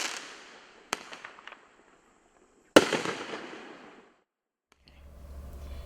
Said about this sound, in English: Green glass green dahlias with golden strobes and golden strobing willows.